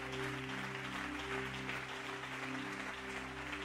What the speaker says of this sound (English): Clap your hands one more time unto the Lord.